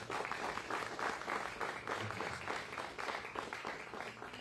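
A church congregation claps together in a steady, dense burst of applause that holds at an even level for a few seconds.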